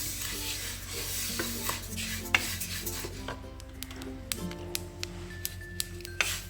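Flattened rice (aval) dry-roasting in a large pan, a steady run of scattered small crackles and pops with occasional sharper ticks and scraping stirs, close by with no talk.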